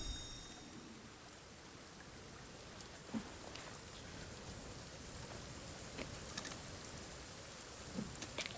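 Rain falling in a video game, a soft, steady hiss of rainfall with a few faint drop-like ticks scattered through it.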